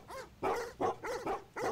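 Dogs bark and bay in several short, strained bursts with whimpering yips between them, close and fairly loud, used as a sound effect for dogs baying in the distance.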